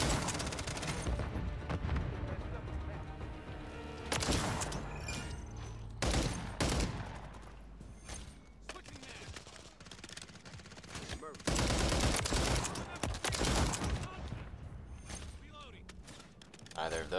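Video game gunfire crackles in bursts of rapid automatic shots separated by pauses, loud and sharp, with someone talking at times between the volleys.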